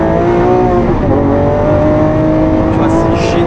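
Lamborghini Aventador Ultimae LP780-4 with its V12 pulling hard, a loud, continuous near engine roar with harmonics climbing through the gears and crackling exhaust pops, heard from inside the car under some talk.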